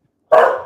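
A dog gives a single sharp, loud bark at close range after a moment of silence.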